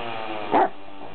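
A single short, sharp yip from a Leonberger puppy rises briefly over a quiet hum, close by and alone.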